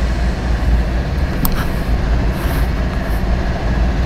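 An Amtrak train in the Run8 train simulator game rumbles along with a heavy low continuous roar and steady rail noise, loud and close, with a faint brief squeal partway through and no voices.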